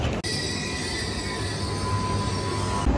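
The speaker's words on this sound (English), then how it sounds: "so the train just arrived" A high-speed train on the Istanbul–Ankara line pulls into the station, a steady rolling rumble with a faint high squeal of wheels running through the whole stretch, close and continuous.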